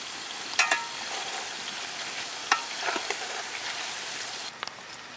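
Onions fry in oil with salt for a chicken biryani, a steady broadband sizzle with a few sharp crackles and spatters, close and fairly loud throughout, no voices.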